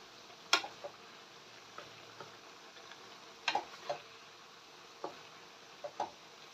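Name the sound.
stirring papaya cooking in coconut milk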